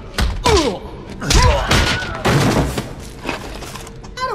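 Bare-handed fistfight in the 2009 video game Eat Lead: The Return of Matt Hazard, with several heavy thudding punches landing in bursts amid grunts and pained cries, plus game music underneath.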